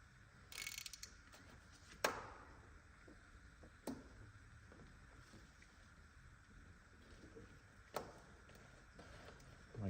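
A socket wrench works loose a tight fastener on a wrecked Kawasaki ZX12R motorcycle, giving a few sharp metallic clicks and knocks spaced several seconds apart over quiet workshop background.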